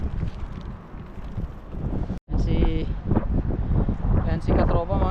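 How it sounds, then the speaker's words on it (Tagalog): Strong wind at sea buffets the microphone with a steady, loud roar during a shore fishing trip at low tide, and a voice talks over it throughout. "Mahangin talaga."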